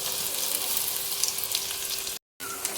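Onions frying in a pan as spices are added for a home-style chicken kosha curry, a loud continuous sizzle and crackle with a brief dropout near the end, no talking.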